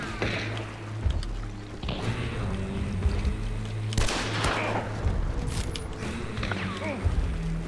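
Gunfire in the game Hunt: Showdown, with a few sharp shots and mechanical rattles over a steady low in-game hum, under a Spanish-speaking player's voice.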